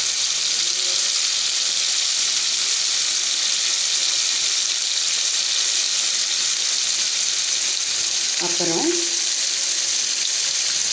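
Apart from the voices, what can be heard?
spices sautéing in oil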